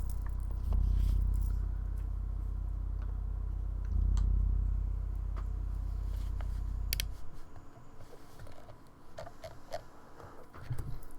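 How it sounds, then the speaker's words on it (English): Deep sub bass from an instrumental swells in two long, heavy low pulses, then drops away, leaving faint, scratchy background noise. "This is just sub bass."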